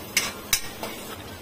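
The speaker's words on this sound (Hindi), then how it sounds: "अब हमें इसे अच्छे से घुमाना है" A spoon scraping and clinking against a pan while grated coconut is stirred into a chickpea curry, giving three quick knocks, two sharp and one softer, with no voices.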